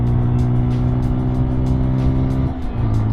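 A KTM motorcycle engine hums steadily at low throttle while riding at speed on a larger road, a continuous loud drone with wind rush, dipping briefly near the end.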